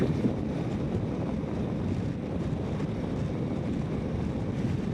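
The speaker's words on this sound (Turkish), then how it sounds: "Şu anda çünkü bayağı bir rüzgar var." Steady, heavy wind roar buffeting the microphone during an MV Agusta Veloce motorcycle ride, a constant low rumble with no talking.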